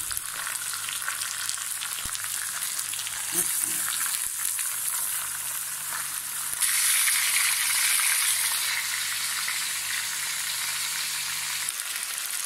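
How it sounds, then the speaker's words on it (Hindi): Steady sizzling and crackling of ginger-garlic paste frying in a pan for chicken kabsa, continuous and fairly close, with occasional stirring scrapes. "इसको मैं अच्छी तरह भून लिया।"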